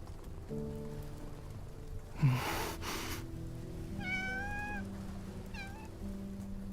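A cat in the video game Love and Deepspace gives two clear meows, one drawn out and one shorter, over soft rain patter and quiet ambient music, with a brief thump beforehand.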